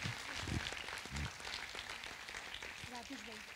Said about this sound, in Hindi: शुक्रिया हम तालियों में अदा करें